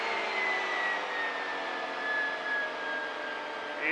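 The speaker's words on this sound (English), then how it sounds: "Plane feels really stable with the Vortex generators, even more so than it did before." A CGS Hawk ultralight plane fitted with vortex generators flies straight and level. Its engine gives a steady, loud, unbroken drone with a faint whine running over it, heard from inside the aircraft with no talking.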